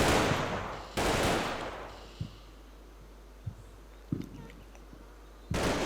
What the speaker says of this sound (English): Starting to return some fire. Not a lot, just long range Bren fire by the looks of it.